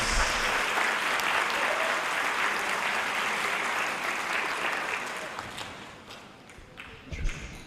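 Steady, full applause fills the hall at an 8th grade moving-up ceremony, honoring literacy award winners. It stays loud for about five seconds, then fades out, leaving scattered thumps and room noise.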